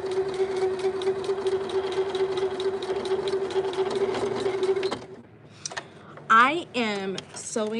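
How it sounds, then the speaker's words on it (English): A home sewing machine with a start/stop button stitches steadily, whirring with a fast regular rhythm for about five seconds before stopping, after which someone speaks. "Sewing on this machine,"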